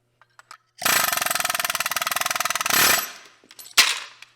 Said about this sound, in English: Take our air chisel. It does not take much since these are aluminum.